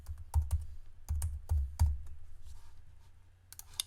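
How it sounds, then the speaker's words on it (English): Fingers type on a computer keyboard up close, with quiet clicks in two or three short bursts of rapid keystrokes separated by brief pauses. "I'm going to type Aqualand again"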